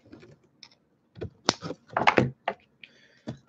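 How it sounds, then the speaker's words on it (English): A small cutter snips the negative leads of a freshly wrapped twisted helix vape coil: several sharp, close clicks and snaps scattered irregularly, with light handling taps between them and no talking. "Cut the negatives now."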